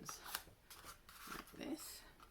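Scissors snip through plant stems while potting herbs in a winter garden setting, a few short crisp cuts close by, with faint rustling of handled foliage and quiet speech woven between.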